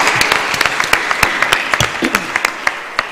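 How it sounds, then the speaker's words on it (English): An audience claps for a panel at the close of an executive session on earth observation and geospatial work; a scattered round of applause with distinct individual claps, moderately loud and thinning toward the end. "Please join me in giving the panel one more round of applause,"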